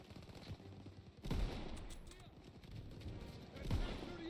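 Machine gun fire in the World War II video game Call of Duty: WWII, with rapid loud bursts and heavy booming impacts under battlefield noise.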